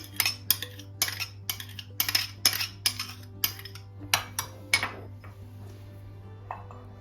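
A spoon clinks and scrapes repeatedly against a bowl as grated garlic is emptied into softened butter, a quick run of bright, close metallic taps that thins out and fades, with no voices.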